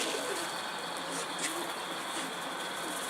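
A pigeon coos softly a few times, faint against a steady background hiss.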